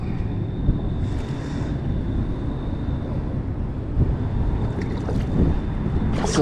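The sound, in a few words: strong wind on a lake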